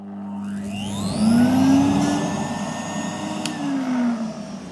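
A Numatic Hetty shop vacuum cleaner in poor condition runs loudly and close, its motor whine rising as it spins up, then holding a steady droning hum with a slight wavering pitch throughout, with no talk.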